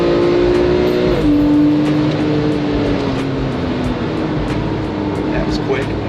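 Engine of a Porsche 997.2 Carrera S heard from inside the car, a loud sustained drone whose pitch rises, drops sharply at a downshift, then climbs again, with steady road and wind noise underneath.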